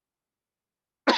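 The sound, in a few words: coughing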